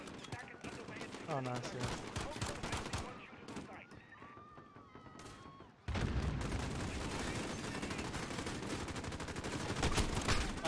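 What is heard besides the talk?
gunfire in video game Call of Duty Modern Warfare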